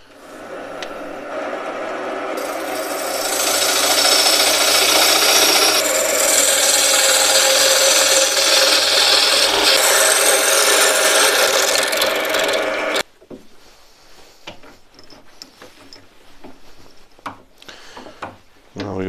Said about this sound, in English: Now, once I've cut the tenon on both sides, I can part this off.